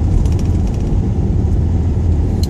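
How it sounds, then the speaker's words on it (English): Steady low drone from the BMW six-cylinder engine of an Omega saloon, a close rumbling idle that holds even throughout, a faint click near the end and no voices. "not least that lovely six-cylinder noise from that BMW engine"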